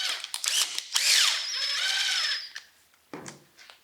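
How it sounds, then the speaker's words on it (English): A driver turns a 5/8 oval head screw into a PHLster Pro Series holster, giving a close, whirring mechanical run of about a second and a half that stops abruptly, followed by brief handling clicks. "Then we have two 5/8 oval head screws. Put that in, use your driver,"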